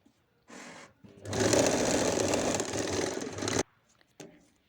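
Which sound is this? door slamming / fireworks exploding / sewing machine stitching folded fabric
sewing machine stitching folded fabric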